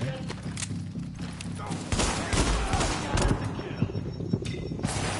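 Gunfire in The Division, a cover-based shooter: scattered shots at first, then heavy overlapping volleys and bursts erupting close and loud for the rest of the stretch.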